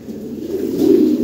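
Top-quality selected pigeons, including an imported European female, give a loud, close, continuous throaty coo that builds toward the end.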